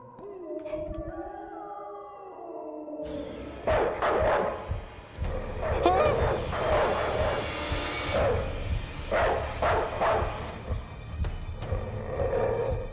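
A dog barking in a horror video game: a series of sharp, loud barks and yelps in irregular bursts, following an opening stretch of eerie tonal sounds, with a low rumbling background underneath.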